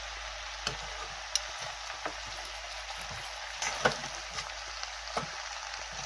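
Taro and pork frying in a pan and stirred slowly, a constant soft sizzle broken by sharp, scattered clicks and scrapes of the utensil against the pan.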